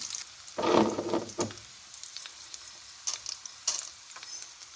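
Fenugreek seeds sizzle in hot oil under a constant hiss, with several louder scraping bursts as a spoon sautés them, close and with no talking.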